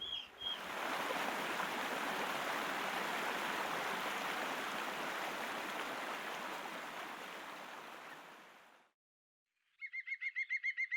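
A waterfall pours in a loud, steady broadband rush at a stone bunker entrance, slowly fading before a brief silence, then a bird calls in quick repeated chirps at the end.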